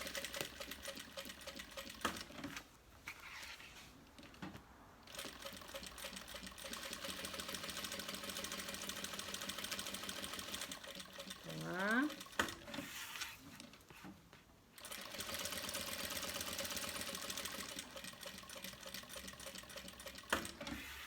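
A sewing machine runs in steady bursts while stitching around a bag frame, with a brief pause partway and a short squeak, close and fairly quiet with no talking.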